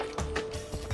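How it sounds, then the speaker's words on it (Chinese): Someone wrestles with a locked door, its latch and handle giving a quick series of sharp mechanical clicks and rattles close by, one after another. "你这样打不开门的"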